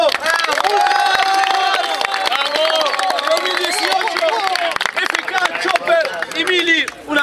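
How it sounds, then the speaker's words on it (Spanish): Crowd at a rap battle event in a bar, applauding and cheering loudly and continuously, with shouts and voices rising above the dense clapping. "¡Gente, un aplauso!"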